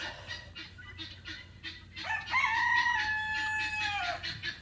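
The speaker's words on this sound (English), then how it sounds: "we might have 2 broody hens" Broody hens cluck and give a drawn-out, rising call at close range, with soft rustling around them and no talking.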